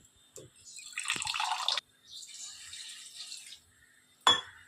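Water poured into a pot of village-style country chicken curry in two short splashing pours, fairly quiet and close, followed by a single sharp knock.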